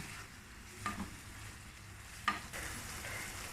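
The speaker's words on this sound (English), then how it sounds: "Mix all this masala well along with the onion tomato in the pan." Masala with onion, tomato and a dash of asafoetida stirred in a frying pan, a faint steady sizzle broken by two sharp spoon scrapes against the pan.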